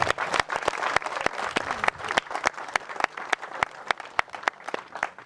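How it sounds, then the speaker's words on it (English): A crowd at an awards presentation applauds steadily, many hands clapping in a dense, continuous patter that carries through the whole stretch without fading. "So big applause for Bob Pardue and best improved scale."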